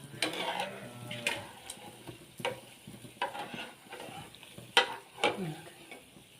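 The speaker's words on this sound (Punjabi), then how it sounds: "ਥੋੜਾ ਜਿਹਾ ਤੇਲ ਆਪਣਾ ਜ਼ਿਆਦਾ ਹੀ ਗਰਮ ਹੋ ਗਿਆ ਫਰਾਈ 1 ਮਿੰਟ 'ਚ ਹੀ ਹੋ ਜਾਂਦੇ" Bread slices fry in overheated oil, a soft crackling sizzle broken by sharp clinks and scrapes of a utensil stirring and lifting them, fairly quiet and close.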